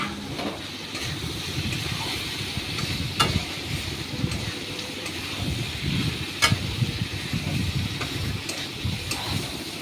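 Jackfruit and potato pieces fry in spices in a pan, a steady close sizzle with scraping stirs and occasional sharp clinks of a utensil, no voices.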